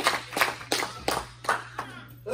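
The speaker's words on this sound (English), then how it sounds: "Let's give the Lord a hand clap." Rhythmic hand clapping from a church congregation, about seven sharp claps in a steady beat, fairly close and moderately loud, with faint voices mixed in.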